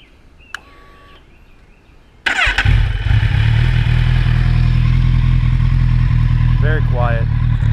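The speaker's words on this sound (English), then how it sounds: "This is Two Brothers Racing Black Series exhaust, and I'm not impressed by the sound of this thing at all." A 2010 Kawasaki Z1000 fitted with a Two Brothers Racing Black Series exhaust fires up after a faint click and settles into a steady, fairly subdued idle rumble close by, with a brief voice in the background near the end.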